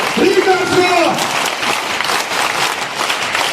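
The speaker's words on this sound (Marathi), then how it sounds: "सगळ्यांनी जोरात टाळ्या हात वर करून पवार साहेबांना शुभेच्छा द्यायचा" An audience at a public event applauds for Sharad Pawar, a dense, loud burst of clapping that starts under a voice and continues alone to the end.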